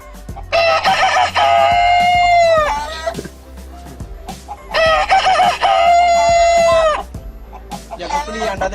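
A man imitates a rooster crowing, giving two long, loud drawn-out cock-a-doodle-doo calls in quick succession with a short gap between them, followed by a brief third burst.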